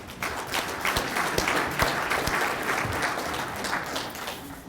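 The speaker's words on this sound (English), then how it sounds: "let's give Brian one more round of applause." Audience applause at an agricultural awards program's annual meeting, a steady wash of many hands clapping with a few louder close claps standing out, sustained throughout at moderate level.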